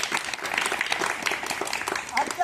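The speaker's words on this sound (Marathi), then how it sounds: "आपण सर्व विद्यार्थ्यांनी त्यांचं टाळ्या वाजून या ठिकाणी स्वागत करायचं आहे" Students clapping together to welcome guests at a school street-play event, a steady dense patter of many hands filling the whole stretch at moderate volume.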